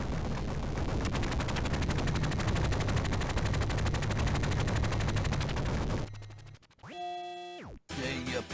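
Rapid arcade gunfire from a boss battle in a Teenage Mutant Ninja Turtles video game, a dense, loud, continuous stream of shots that cuts off into brief chiptune blips and rising electronic tones.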